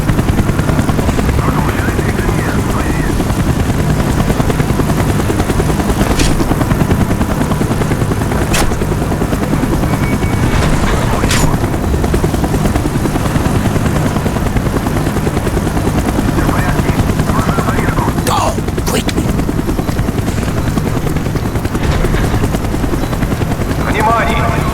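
Steady helicopter rotor drone in Call of Duty: Black Ops fills the scene with scattered gunfire bursts and faint voices underneath, loud and continuous throughout.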